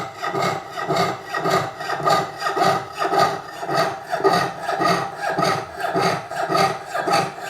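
Hand sawing through sterling silver sheet for an ocean jasper pendant, a steady back-and-forth rasp of even strokes, roughly two per second, close and alone without talk.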